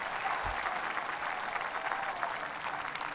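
Packed tennis crowd applauding at US Open 2018 court 10 during a hot-day match, a steady dense wash of clapping that fills the whole clip without pause.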